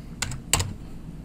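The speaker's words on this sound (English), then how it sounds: "I can use my own keyboard on my computer" Keystrokes on a personal computer keyboard: two short bursts of clicky typing, about a third of a second apart, close and fairly crisp over a quiet background.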